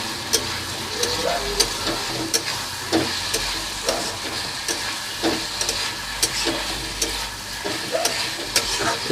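Fried chicken pieces stirred with sauces in a hot pan, a steady close sizzle with regular sharp scraping and tapping strokes of the spatula against the pan, no talking.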